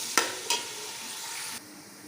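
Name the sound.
onions frying golden brown for biryani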